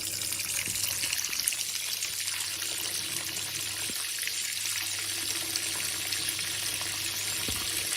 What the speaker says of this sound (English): first trick is cold water on.